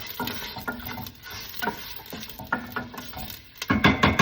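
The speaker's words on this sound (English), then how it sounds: "I'm going to just give this a little stir." Spoon stirring diced onions and other ingredients in a saucepan for a Portuguese fava bean stew with chouriço, a few close scraping strokes with faint sizzling between them and no talk.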